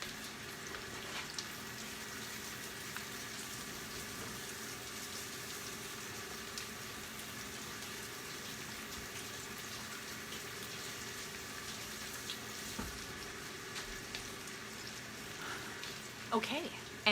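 Hands being washed under a running kitchen tap, a steady, soft water stream that continues throughout, fairly distant and low in level, with a little clatter near the end.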